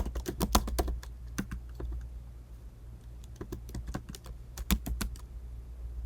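Keystrokes on a computer keyboard while building a webpage navigation bar, close and fairly quiet, coming in quick bursts of clicks with pauses between them over a low steady hum.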